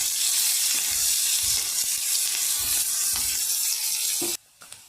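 Chopped onion and green chilies fry in hot oil with a dense, steady sizzle and a few soft stirring knocks, cutting off abruptly near the end.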